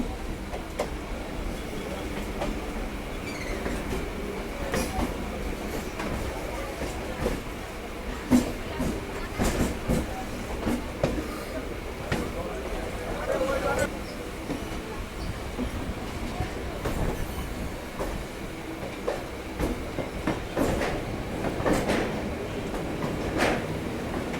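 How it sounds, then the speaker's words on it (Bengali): A twelve-coach Sealdah EMU local train rolls into a station, steady rumble with rhythmic wheel clicks and occasional squeals, a voice talking over it. "ডাউনে একটা লোকাল ট্রেন ঢুকছে বারাসাত কাশেরের আশি হাজার সিরিজের গাড়ি বারো কোচে"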